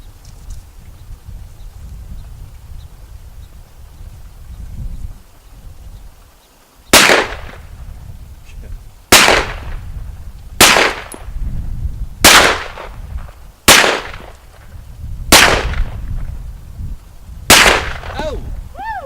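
Hi-Point 995 carbine firing seven sharp shots outdoors, spaced irregularly a second or two apart over a low rumbling background, each crack loud and close.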